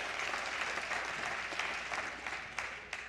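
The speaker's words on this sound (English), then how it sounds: "Please give the congressman a big round of applause." Audience applause for a congressman at a state House swearing-in ceremony, a steady wash of clapping from a crowd lasting throughout, fairly distant and even, with a few sharper individual claps near the end.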